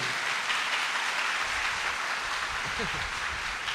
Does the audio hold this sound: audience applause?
yes